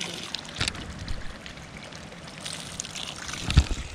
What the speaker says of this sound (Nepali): खानेमा त्यसरी पानी भर्ने उही